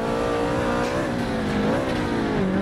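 A Subaru BRZ engine revs hard during a race through Rio de Janeiro in the Forza Motorsport video game; a loud, steady buzzing drone climbs and dips as the car downshifts, with no talking.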